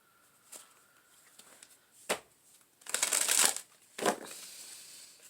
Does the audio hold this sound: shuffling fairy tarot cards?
yes